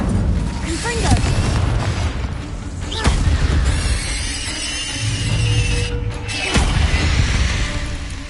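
Explosive spell blasts from Hogwarts Legacy gameplay, a few sharp booms and bursts over a continuous roar of game effects and music, loud and close, with no speech over it.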